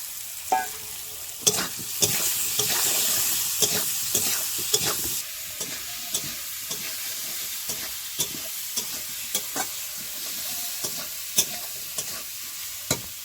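Chopped onion drops into hot oil in a Bengali kitchen and fries with a soft, even sizzle. Sharp spatula scrapes and knocks recur all the way through.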